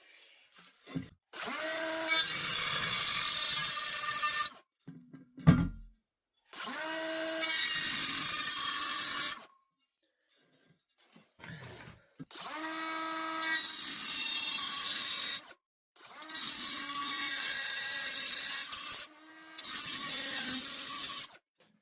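A 3-inch diamond blade on a power tool cuts into tile corners in repeated loud bursts of a few seconds each, a high gritty whine separated by short pauses and scraping, with no talk.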